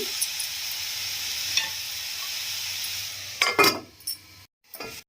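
Cabbage and chopped tomato frying in a pan, with a soft steady sizzle, a few scrapes and clinks of a stirring spoon near the end, then brief quiet.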